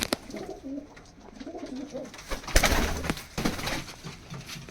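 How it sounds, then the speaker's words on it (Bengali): Kalduma pigeons just released, with soft cooing and bird calls close by, a few sharp flapping bursts and rustles near the middle and later, no talking. "এই যে কবুতর সেট আমি ছেড়ে দেখাচ্ছি"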